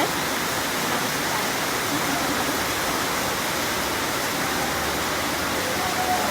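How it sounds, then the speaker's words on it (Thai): Heavy rain falls steadily outside a Thai-style grill restaurant in Taunggyi, a dense, even hiss with no breaks, fairly loud and alone without talk. "ฝนตกหนักมาละ"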